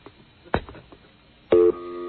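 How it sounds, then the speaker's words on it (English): A telephone gives a few quick dialing clicks, then a short steady busy tone, near and clear in a quiet room. "let me see if I can get him on the phone"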